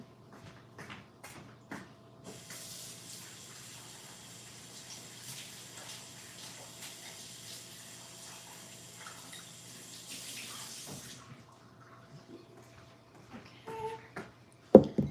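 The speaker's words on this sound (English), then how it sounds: "But I'm gonna wash this out really quickly." Water runs steadily from a kitchen tap into a pot being washed out, a continuous hissing flow lasting about nine seconds, with a few clunks and knocks before and after it.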